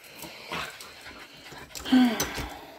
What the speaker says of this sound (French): Ça, c'est tous mes chiens.